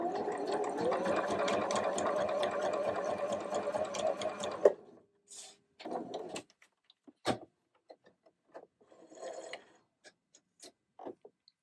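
Sewing machine running a twin needle hem on baby waffle fabric, a steady continuous whirring stitch for about five seconds before it stops, followed by faint scattered handling taps and rustles. No talking.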